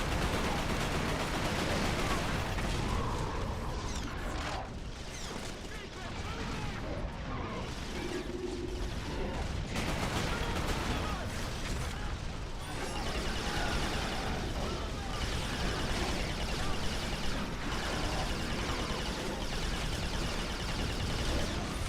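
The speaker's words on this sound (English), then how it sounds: "Don't get in the way of my gunfire, you dummy." Dense gunfire and explosions rumble through a chaotic video game firefight, a steady loud wash of shots and blasts with scattered bird-like chirps mixed in, no speech.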